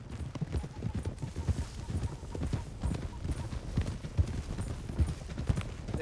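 Several horses in Red Dead Redemption 2 set off together, a dense patter of hoofbeats clip-clopping close by at a quick gait with occasional snorts and whinnies.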